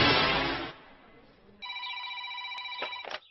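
A telephone rings with a clear electronic tone after a short burst of noise and a quiet pause, one ring lasting about a second and a half.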